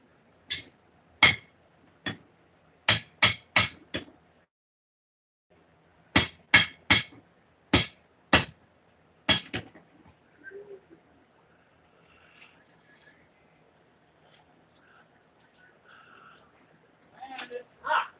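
Hot steel being forged into a bowie knife, with sharp ringing hammer blows in quick clusters and pauses between them, then scattered lighter taps and clinks near the end.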